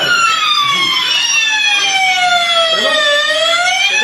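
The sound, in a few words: fire alarm siren during a fire mock drill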